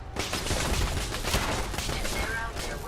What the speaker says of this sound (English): sounds like a turret